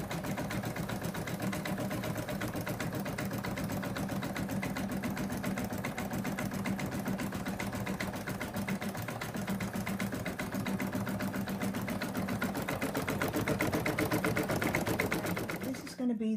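An embroidery machine stitches an outline onto a cap for a 3D effect, its needle hammering in a fast, steady mechanical rhythm throughout, close and continuous, with a slight swell near the end.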